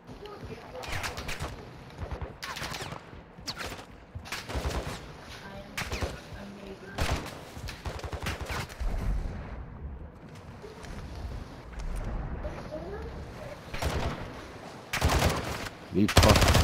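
Bursts of gunfire in Call of Duty: Modern Warfare II DMZ, with repeated loud shots and rapid automatic volleys spread across the stretch, the heaviest near the end, under occasional game voices.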